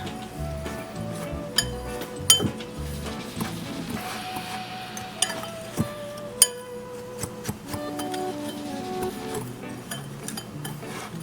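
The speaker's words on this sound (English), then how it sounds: "Then I'm just going to whisk all of this together. I have a very tiny whisk here" A very small whisk stirs pumpkin spice and brown sugar in a bowl, making irregular light clinks and taps against the sides over soft scraping, close and fairly quiet.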